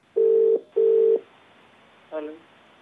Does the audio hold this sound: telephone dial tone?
yes